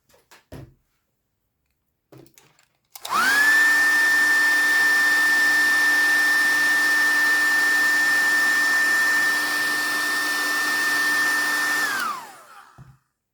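After a few faint handling knocks, a hair dryer blows steadily and loudly on a Christmas folio craft piece for about nine seconds, then switches off and winds down.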